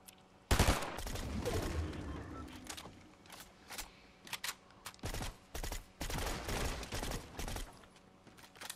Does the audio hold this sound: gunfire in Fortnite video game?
yes